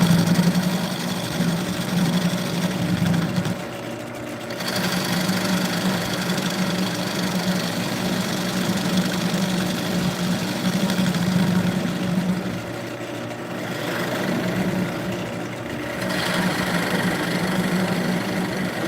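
A wood lathe turns at about 600 RPM, giving a steady low mechanical hum with a faint rhythmic throb and brief dips in level, and no voices.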